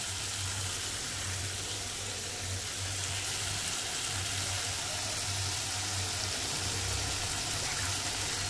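Spices sizzling steadily in oil with a pinch of asafoetida added, for a Bengali moong dal and green papaya ghonto; an even, continuous frying hiss with a low background hum throughout.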